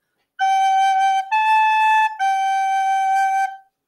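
Three sustained recorder notes played one after another as an authentic cadence, clear and breathy, ending on a held resolving tone. Solo, close and fairly loud.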